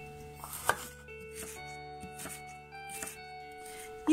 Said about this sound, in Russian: Морковь можно или натереть на крупной терке, или вот я нарежу тоненькой соломкой